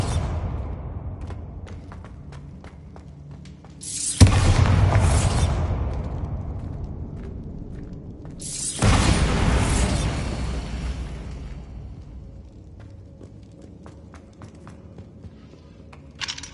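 Bombarda blasting spell explosions in the game Hogwarts Legacy: two loud, sudden booming blasts several seconds apart, each with a sharp crack followed by a long rumbling roar that slowly decays, with faint clicks in between.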